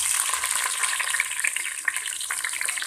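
Chopped onion and green chilies frying in hot oil in a pan for mutton biryani, giving a steady, close, loud crackling sizzle with a few faint stirring scrapes and no talk.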